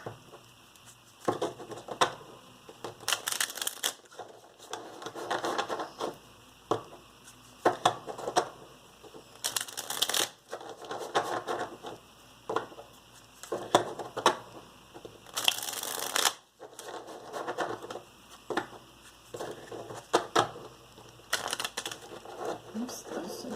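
Tarot cards being shuffled by hand: repeated soft riffling and crisp flicking bursts, some louder snaps, scattered irregularly over a quiet room tone with no talking.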